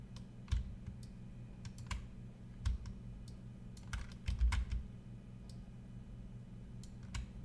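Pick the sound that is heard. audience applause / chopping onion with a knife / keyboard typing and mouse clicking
keyboard typing and mouse clicking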